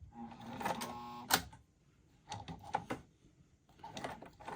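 A sewing machine top stitches a fabric crescent bag at stitch length 4, running in several short bursts of rapid mechanical clatter with brief pauses between them.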